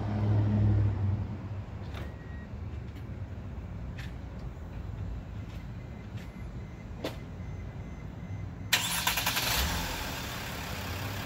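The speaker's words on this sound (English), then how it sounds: "Vehicle take right about 5 seconds to start." A 2017 Mercedes Sprinter van's engine is started by its factory remote through three presses of the lock button: a long stretch of low, quiet rumble, then near the end the engine catches and a louder, steadier running noise takes over.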